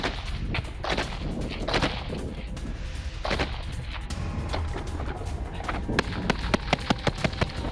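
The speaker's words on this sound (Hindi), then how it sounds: "यूक्रेनी सैनिकों का रूसी फोर्स पर हमला और ताबड़तोड़ फायरिंग करते यूक्रेनी सैनिकों की ये तस्वीर आपके सामने" Gunfire from Ukrainian soldiers in combat near Kharkiv, a rapid series of sharp cracking shots over a rumbling background, with a tighter burst of evenly spaced reports near the end.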